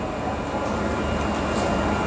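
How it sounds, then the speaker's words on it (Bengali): The Kriya Yoga Express pulls out of Tata station on the Howrah to Ranchi run, a steady, close rumble of the moving train with a faint high squeal above it. "এখন আমাদের ট্রেন টাটা ছাড়ছে।"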